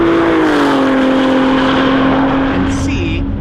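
Two Ford GTs, a 2018 and a 2022, drag race, their engines roaring loudly and steadily with a pitch sweep as they accelerate away, a brief high whine near the end.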